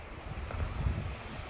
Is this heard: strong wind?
yes